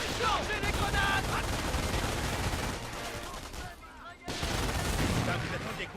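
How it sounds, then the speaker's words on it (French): Dense, sustained machine-gun and rifle fire in a Company of Heroes battle, with overlapping bursts filling most of the span, a brief dip near the end, then resuming loudly, with shouted voices mixed in. "Tire de suppression!"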